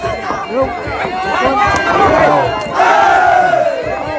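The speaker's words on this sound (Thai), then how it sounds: "เสียงเชียร์ดังแล้วครับ" Spectators at a rural Muay Thai fight in northeastern Thailand shout and cheer loudly, with rhythmic crowd yells that rise in waves and grow louder toward the end, mixed with a commentator's voice.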